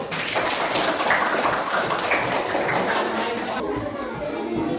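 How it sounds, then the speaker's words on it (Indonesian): Applause for a student group in a classroom, a dense, steady patter of many hands clapping close by that holds at an even level throughout, thinning slightly near the end. "Beri tepuk tangan untuk kelompok 1."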